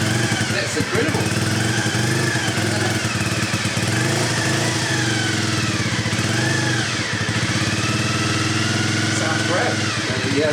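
A Honda Dream 50 Race Replica motorcycle engine runs steadily in a garage, a close, loud, even buzzing idle with slight pitch wavering, while people talk over it.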